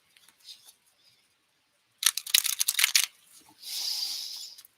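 Tarot cards being shuffled by hand, a dense burst of riffling card flutters in the middle followed by a softer, steady hissing slide, with faint scattered handling noises before it.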